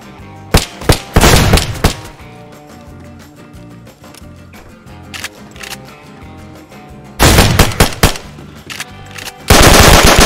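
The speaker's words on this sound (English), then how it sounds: "I'm gonna shoot you" Automatic gunfire in the DayZ survival video game, several loud close bursts of rapid shots separated by quieter stretches of ambient game sound, with a heavy sustained volley near the end.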